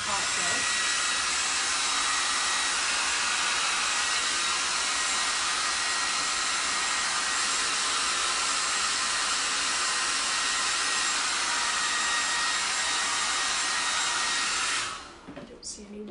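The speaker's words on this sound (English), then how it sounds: "I'm just gonna blow dry it a little bit, just make sure my screening is dry." A hair dryer blows steadily on a wet printing screen, a loud continuous whoosh for about fifteen seconds before it switches off near the end.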